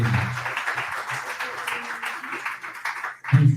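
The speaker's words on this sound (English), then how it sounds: "And big applause." Audience applause at a community meetup in Oslo, a steady wash of many hands clapping that fades toward the end as a voice begins speaking.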